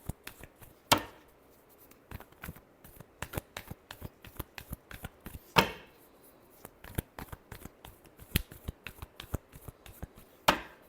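Tarot cards being shuffled by hand: repeated soft riffling and slapping bursts in an irregular rhythm, close and fairly quiet, with a few sharper card snaps and no talk.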